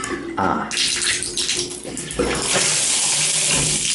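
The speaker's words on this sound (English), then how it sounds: "Water, let's test it." Hotel shower water running at a beach hotel, a loud steady rush of spray that starts abruptly and pours continuously, close to the listener with no talking.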